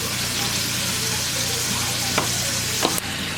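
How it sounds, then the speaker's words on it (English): Pork chops with rosemary frying in olive oil, a steady close sizzle filling the whole stretch with a few brief utensil clicks near the end. "I'm cooking these in olive oil"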